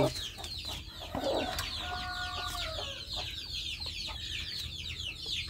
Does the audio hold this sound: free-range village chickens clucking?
yes